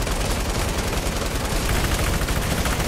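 Sustained automatic fire from a video game gun pounds out in a fast, unbroken stream, loud and close, as the magazine is emptied before a reload.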